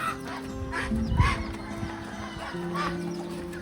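Backyard chickens cluck near a new coop, alongside ducks, with a few short clucking and yipping calls over a low steady hum and scattered rustling.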